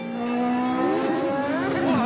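Formula racing car skidding on a wet, low-grip track with cold tyres, its engine note holding steady and then wavering as traction is lost, loud and close throughout.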